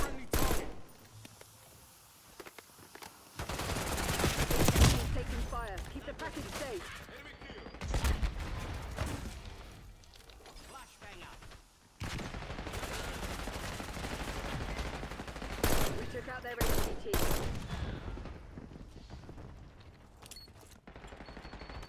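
Bursts of rapid gunfire and heavy fusillades from a video game firefight, loud and close, coming in repeated volleys with short gaps between them, with no voices over the shooting.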